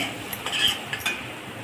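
A utensil scrapes and taps against a pan as cashew masala is stirred and sautéed, several short knocks over a soft background sizzle, close and alone.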